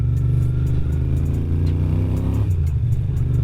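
Engine of a 1980 Moto Guzzi V50 II motorcycle running steadily at a low, even idle, a close, continuous throbbing drone with light mechanical clatter, no talk.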